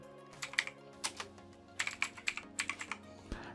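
Rapid keystrokes clatter on a computer keyboard as a command-line repair command is typed, in quick uneven bursts with short pauses and a soft tonal bed of background music underneath, no talking.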